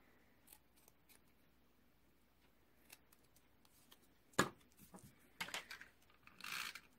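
Paper being trimmed for a small banner on a card project: a few quiet, sparse snips and rustles, the cuts growing louder and denser near the end, with no talking.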